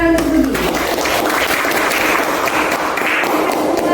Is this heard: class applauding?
yes